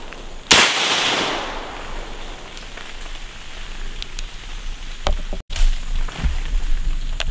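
A single sharp shotgun blast cracks out loudly near the start during a squirrel hunt in the woods, followed by a long outdoor wash of rustling and scattered small knocks.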